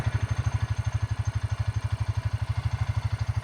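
Idling Honda Rancher ATV engine fitted with an aftermarket exhaust, a steady low rhythmic thumping pulse at even tempo, close and continuous with no talk.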